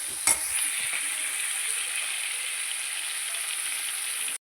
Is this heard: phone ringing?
no